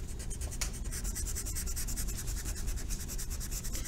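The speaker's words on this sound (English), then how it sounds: "So I'm just going to erase." An eraser rubs out handwritten math working, making quick, continuous back-and-forth scrubbing strokes, quiet and close, with no speech.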